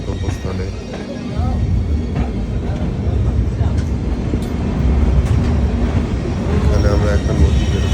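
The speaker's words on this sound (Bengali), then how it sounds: "ট্রেন ছেড়ে দিয়েছে" A passenger train pulls away and rolls along the rails on a journey toward Ajmer, a loud continuous rumble with clattering wheels that builds steadily, with voices talking faintly in the carriage.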